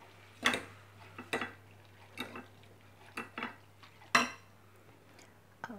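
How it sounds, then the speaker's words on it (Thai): Chicken larb being tossed with toasted rice and shallots in a bowl: sparse, quiet clinks and scrapes of a utensil against the dish, spaced about a second apart in a hushed room. "ข้าวคั่วค่ะ หอมแดงแล้วก็มาคลุกเคล้าเขาให้เข้ากันนะคะ"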